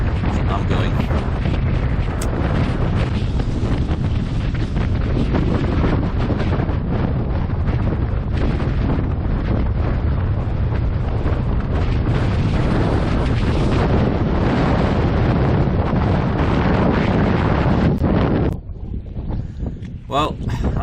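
Strong wind roars on the summit of Helvellyn, a loud, continuous buffeting across the microphone for nearly the whole stretch before easing slightly at the end, with a voice partly buried beneath it.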